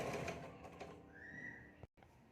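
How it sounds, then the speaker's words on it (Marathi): A sewing machine stitching along the neckline of a size 36 katori blouse, through lining and main fabric together: a faint, brief mechanical whir with a thin rising tone that stops abruptly, heard up close in a quiet room. "आता आपल्याला गळ्यावर टीप टाकून घ्यायची आहे"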